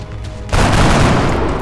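A gunshot in the turn-based strategy game XCOM: Enemy Unknown: a sudden loud blast bursts in over a quiet tonal background and rumbles on with a long, heavy tail, with no talking.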